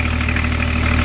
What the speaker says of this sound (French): moteur allumé